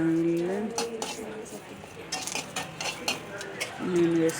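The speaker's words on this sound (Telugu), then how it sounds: "దీనికోసం 2-3 స్పూన్స్ ఆయిల్ వేసుకుని జీలకర్ర, ఎండుమిరపకాయలు, చిన్నపాయలు కొట్టి వేసుకోండి. కరివేపాకు వేసుకోండి తాలింపులో." Cumin, dried red chillies, crushed shallots and curry leaves are tempered in a few spoons of hot oil for gongura pachadi, with a steady sizzle under a spoon clinking and scraping the pan and a voice speaking over it.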